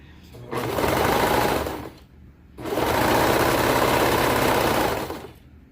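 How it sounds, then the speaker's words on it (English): A serger overlock machine stitches along a sleeve cuff of a slouchy cardigan in two loud, steady bursts with a short pause between them, running close and fast. "I'm gonna go ahead and stick this into serger"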